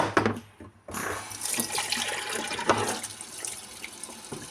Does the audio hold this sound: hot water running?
yes